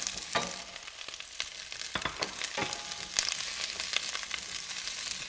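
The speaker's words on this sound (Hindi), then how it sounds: "अब इसी तेल में हमने जो ये बड़े बड़े चंक्स में ये शिमला मिर्च और प्याज काटे थे, इसको हमें हल्का सा फ्राई करके" Chunks of bell pepper and onion sizzle in hot oil in a kadhai, a steady close crackle and hiss broken by a few sharp pops and stirring scrapes, with no talking.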